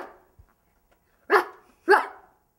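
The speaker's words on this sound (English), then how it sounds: "Why is he barking?" A dog barks twice in quick succession, close and loud, after a faint quiet stretch.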